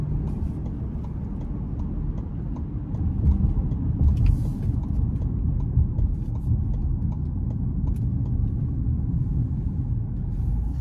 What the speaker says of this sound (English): So we're gonna get on the interstate here, and again, we'll give it just a tad bit of throttle